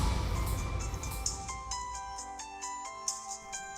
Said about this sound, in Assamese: দিগন্তদাৰ ফোন এই সময়ত?